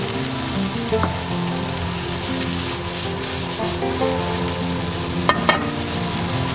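Rice with thin, small broccoli pieces and Chinese sausage stir-fries in a hot pan, giving a loud, continuous sizzle with a few spatula scrapes and clinks near the end.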